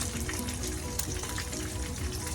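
Fish frying in a pan of oil, a steady close sizzle with dense bubbling crackle that runs unbroken throughout.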